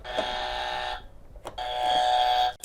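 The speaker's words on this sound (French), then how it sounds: "Vous pouvez vérifier si vos buzzers marchent bien." Electronic quiz buzzers tested during a game show, giving loud sustained tonal buzzes in two bursts separated by a short gap, with no talking.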